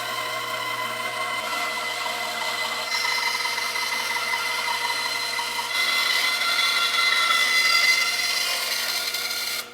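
A power saw cuts through a wooden piece for a chicken coop with a steady, whining buzz that grows a little louder partway through, close by and without talking.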